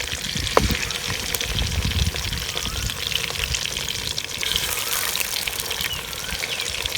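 Chicken pieces fry in the same oil just used for okra, a dense, loud, continuous sizzle and crackle with a sharp clank of a utensil near the start. No voices.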